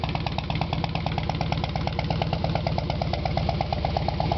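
A 2009 Harley-Davidson FLSTC Heritage Softail Classic idles close by with baffled exhaust and an open air cleaner, a loud, steady, lumpy throb with a regular pulsing beat and no voices.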